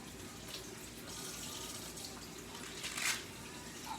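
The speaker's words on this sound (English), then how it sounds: "we're gonna wash this one off because the floor is clean, but we're still gonna wash it off just so we don't get germs" Water runs steadily from a tap while food is rinsed off, a soft, continuous splashing into the sink with a brief surge near the end.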